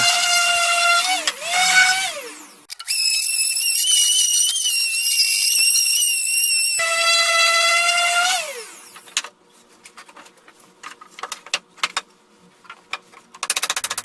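An electric sander on wood whines at a high, shifting pitch in long runs, pausing briefly, then stops and gives way to scattered clicks and taps.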